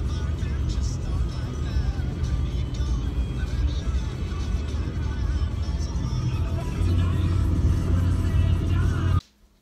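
A car driving home on the road after a hotel stay, heard from inside as a steady, loud low rumble of engine and tyre noise that holds for several seconds before cutting off abruptly.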